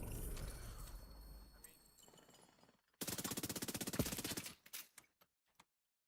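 SMG fire in The Division 2 game, a loud rapid burst of automatic shots lasting about a second and a half, followed by a few scattered single shots and clanks, after a stretch of game noise with talk.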